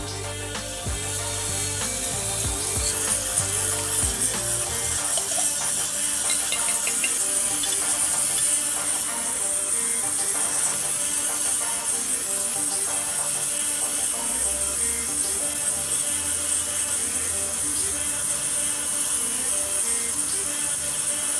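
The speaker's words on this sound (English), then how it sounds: "We'll put it in ultrasonic for another minute or so." An ultrasonic cleaner running with a ring inside, giving a constant high-pitched hiss and buzzing whine with faint rattling, steady and close, with a low hum that fades in and out and no talking.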